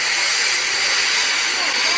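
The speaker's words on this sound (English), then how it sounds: "He blew his whistle and wheezed lots of steam." A steam engine releases a continuous, loud, close hiss of steam that holds steady without a break for about two seconds.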